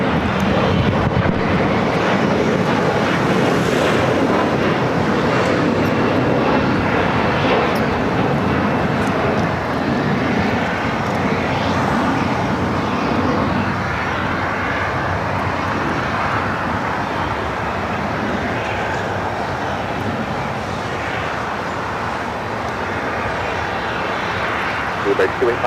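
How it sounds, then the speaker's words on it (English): A British Airways Boeing 777-300ER takes off at LAX, bound for London Heathrow: a steady, loud jet engine roar fills the whole stretch, with wind buffeting and faint background voices. "Up next, British Airways flight 280 heading to London Heathrow at"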